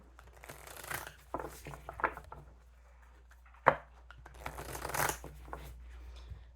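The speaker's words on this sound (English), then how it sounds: "2 more shuffles." Tarot cards are shuffled by hand in a quiet room, with soft, riffling bursts and papery slaps repeated in several short rounds, close and fairly faint, with a sharper tap partway through.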